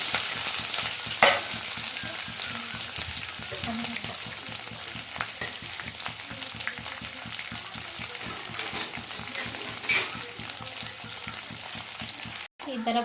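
Onions, green chilli and curry leaves frying in oil for brinjal curry, a continuous loud sizzle with stirring scrapes running steadily throughout, close by and without speech.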